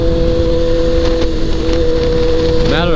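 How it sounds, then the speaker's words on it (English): Heavy, steady rumbling wind buffets a microphone throughout while riding a motorcycle, with a constant engine hum underneath. "Matter of fact, it's pretty windy today."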